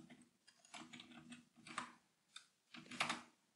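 Keys clatter on a computer keyboard in short bursts as a pip install command is typed, four or five clustered flurries of quiet, close clicks with brief pauses between, no speech.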